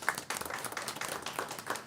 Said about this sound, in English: Dr. Eloy, I really think that deserves a round of applause.